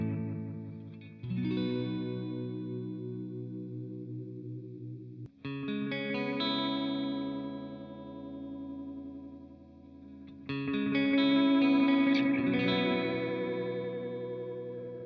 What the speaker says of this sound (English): We'll try a little modulation here. Starting with the sine wave, going from 0 to 1 here.